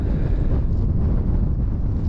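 Strong, cold north wind buffets the microphone in a constant low rumble, loud and close, with no voices.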